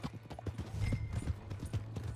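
Horse hooves clip-clop in Red Dead Redemption 2, a quick, even run of close, crisp hoofbeats that lasts the whole moment.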